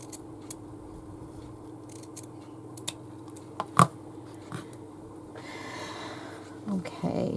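Scissors snipping fabric for a stitchery journal, a few faint, sparse cuts with a sharper snip partway through, quiet and close against a low room hum.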